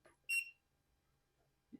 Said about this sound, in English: every button that you push makes a beep